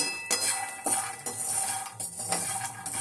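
Makhana being stirred as it roasts in a pan on a low flame, with repeated metallic scrapes and clinks of a spoon against the pan, close and fairly loud, and no voices.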